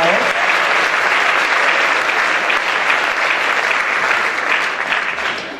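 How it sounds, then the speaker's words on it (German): Loud sustained applause from an audience at a sports night gala, a dense wash of clapping that holds steady and fades slightly at the end. "Ein riesen Applaus."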